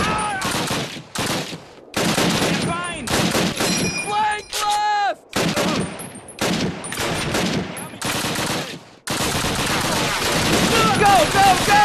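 Dense, near gunfire in a Call of Duty WWII battle at Brecourt Manor, with rapid bursts and single shots crackling almost continuously, artillery and shouted voices mixed in and a brief pause midway.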